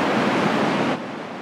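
High ocean waves roll and hiss under a stiff breeze at sea off Norway's Vesterålen in winter, a loud, steady broadband wash that drops noticeably in level near the end.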